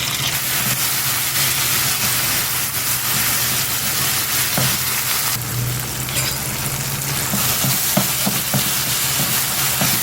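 Loud, steady sizzling and spitting of onions and tomatoes frying in oil for a Tamil-style anchovy fish sambal, with occasional stirring scrapes and clinks under the continuous crackle.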